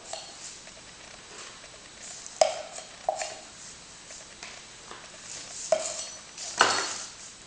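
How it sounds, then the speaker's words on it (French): A tool scrapes and taps inside a container as protective varnish is mixed with fibre filler, giving sparse, faint clinks and scrapes spaced out over a quiet background. "Et je mélange le vernis protection avec l'enduit fibre."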